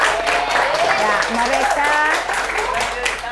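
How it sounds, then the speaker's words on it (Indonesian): A classroom of students applauds classmates who have just presented matrix multiplication work, a steady patter of clapping running beneath a teacher's voice throughout. "jadi beri mereka tepuk tangan ya"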